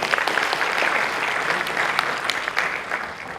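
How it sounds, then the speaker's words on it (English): Audience applause at the launch of the Jaya Tour Club, a full, continuous round of clapping from a crowd, with sharper individual claps standing out and the sound tapering slightly at the end. "ladies and gentlemen, that deserves a big round of applause"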